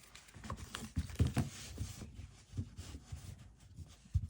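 A Gaian Tarot 2nd Edition deck, trimmed with a green border, is shuffled by hand, giving soft irregular riffling and tapping bursts, quiet and close, with no talking.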